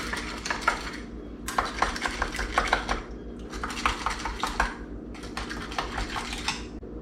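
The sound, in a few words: debubbling filled canning jars of pinto beans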